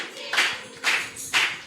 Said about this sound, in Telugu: దేవుణ్ణి చప్పట్లు కొట్టి ఆరాధించేదాం.